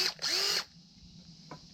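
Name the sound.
hammer drill running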